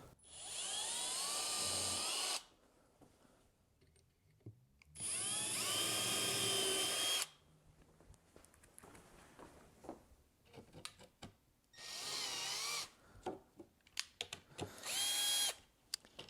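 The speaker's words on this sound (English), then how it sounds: "I'm going to pre-drill just a couple of the holes." A power drill pre-drills holes in a wooden speaker riser during an Altec Valencia 846B restoration, with four loud, close whirring bursts of about two seconds each separated by quiet pauses and faint handling noises.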